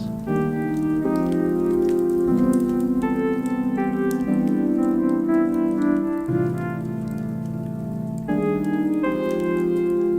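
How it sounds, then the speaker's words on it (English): Soft rain-like crackle of a fireplace sound effect layered steadily beneath a mellow Christmas lofi beat with sustained chords, present throughout at low level under the music. "I've got this fireplace sound pulled in"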